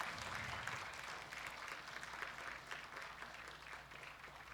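Church congregation applauding during a recognition ceremony at a Presbyterian church, a steady, evenly sustained patter of many hands heard at a low, distant level.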